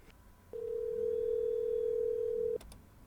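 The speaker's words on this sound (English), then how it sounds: "You can make a call using a keypad just like the cell phone, dial 10-digit number." Steady dial tone from a Zoom desktop client call, holding one unbroken pitch for about two seconds before cutting off cleanly, clear and close over a quiet background.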